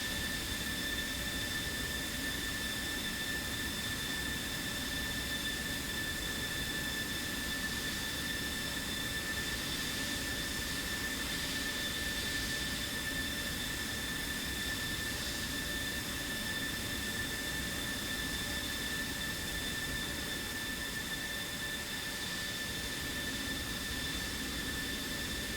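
A jet aircraft taking off in a flight simulator game, heard as a steady, unbroken whine with high tonal lines over a broad hiss, holding at an even, moderate loudness with no talking.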